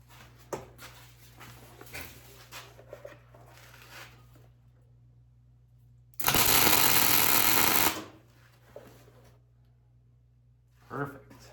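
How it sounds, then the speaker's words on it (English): Welding a nut onto a steel bracket: a loud, steady crackling arc burst lasting about two seconds in the middle, with quieter workshop clatter and a low hum before and after. "I'm just going to put a little more weld on there."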